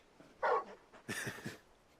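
A large dog in the video game Final Fantasy XVI gives a short whimper, then a few soft yips and whines, fairly close and quiet with no speech over them.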